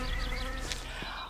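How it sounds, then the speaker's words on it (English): Bees in a spring garden give off a dense, continuous buzzing hum, fairly loud and close, steady across the short stretch. "Can you hear, Steve, can you hear the bees?"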